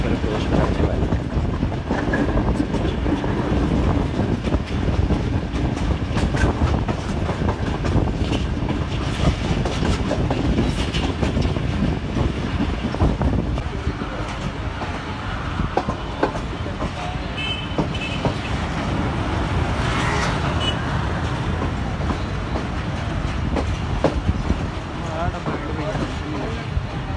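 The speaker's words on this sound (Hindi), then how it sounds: "हमारी 18 डाउन मिलत एक्सप्रेस गोजरा रेलवे स्टेशन पर अप्रोच करने वाली है" Millat Express passenger train, 18 Down, running on rails into Gojra city toward the railway station: a steady, loud rolling rumble with rattling carriage noise and intermittent clacks, continuous throughout, with a voice talking over it at times.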